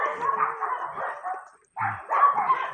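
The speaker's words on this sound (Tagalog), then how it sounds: "maingay ang aso" A dog barks and yips in quick, excited bursts close by, with a brief pause before more barking resumes.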